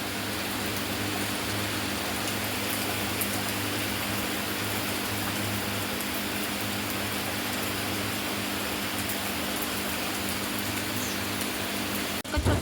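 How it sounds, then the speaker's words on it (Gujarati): Midday rain falling on a house, water spilling from the roof eaves, heard as a constant broad wash of rain and runoff that holds steady throughout, ending with a brief louder bump. "અમારે બપોર ટાણે વરસાદ વરસે છે, અને પાણી તો જો થોડું આવ્યું તો નેવા ચાલુ થઈ ગયા છે।"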